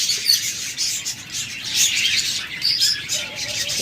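Pet budgerigars or cockatiels chirp and tweet in quick overlapping bursts, close and lively, with no talking over them.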